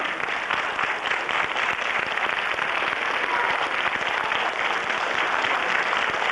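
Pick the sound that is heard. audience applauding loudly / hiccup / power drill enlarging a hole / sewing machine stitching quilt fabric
audience applauding loudly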